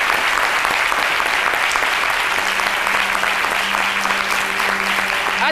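Sustained applause from a French television studio audience, a dense steady roar of many hands clapping throughout, with a faint tone running underneath.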